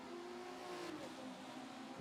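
Race cars lapping Road America in a sim racing game, a steady engine drone with a faint whine, fairly distant and even in loudness throughout, with no speech.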